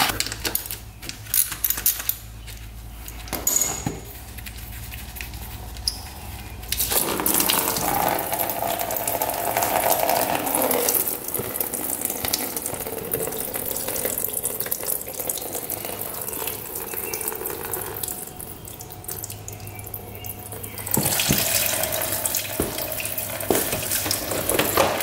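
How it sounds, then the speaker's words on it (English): Coolant drains from a 2-stroke race quad as steady liquid pouring and splashing into a container, with metallic clinks and tool handling at the start. "We'll start by draining the coolant"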